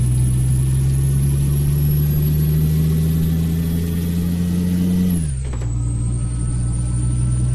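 A loud, steady truck engine drone in Euro Truck Simulator 2 climbs in pitch as it accelerates, dips briefly as if shifting gear, then continues droning.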